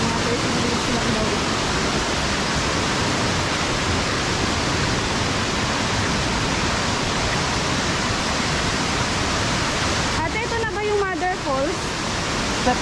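Shower Falls, a waterfall in Baler, Aurora, pours as a steady broadband roar filling the whole scene at close range, with a few voices briefly chattering over it near the end.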